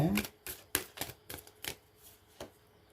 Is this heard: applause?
no